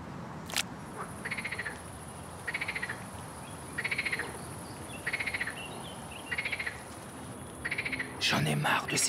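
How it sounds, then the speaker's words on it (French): Frogs in cemetery ponds give a regular series of short rasping croak bursts, about one every second or so, set against a constant insect hum, with a brief clatter near the end. "J'en ai marre de ces grenouilles."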